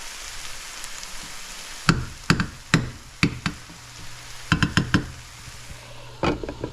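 Dried shrimp with ginger garlic paste frying in a pan, with a low, steady sizzle under repeated close knocks and scrapes from stirring, some in quick clusters.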